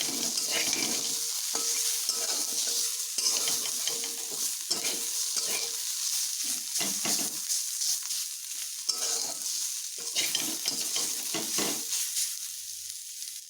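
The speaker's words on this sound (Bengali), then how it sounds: "আমি এবার একটু মিডিয়াম হিটে এগুলোকে আরও একটু ভেজে নিচ্ছি" Pointed gourd peels fry over medium heat in a pan, a steady crackling sizzle broken by repeated scraping stirs of a spatula, close and fairly loud with no talking.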